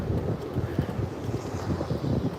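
Strong wind buffets through an open car window during a tropical storm, a loud, continuous low roar with gusty fluctuations and no voices.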